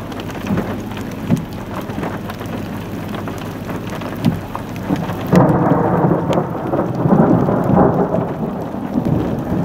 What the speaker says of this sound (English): Textbook thundery rain.